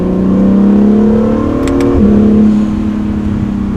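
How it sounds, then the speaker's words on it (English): An Acura NSX pulls hard under acceleration, its engine note climbing in close, loud sweeps through quick gear changes, with a faint turbo whistle above the drone. "I love the little bit of turbo noise this thing has"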